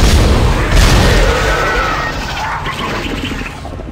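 Weapon shots in the sci-fi horror game Dead Space: heavy, booming blasts crowd together in a loud, dense burst near the start, then rumble on steadily beneath the game's background noise.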